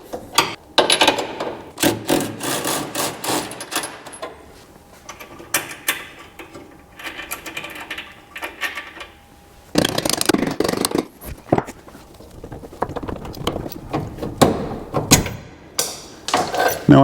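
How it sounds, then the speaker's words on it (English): An impact gun drives nuts off control arm bolts on a classic Ford Mustang during cross member installation, firing in repeated loud rattling bursts separated by short pauses and clanks. "I'm going to hit them with the impact gun and drive these nuts off the bolts"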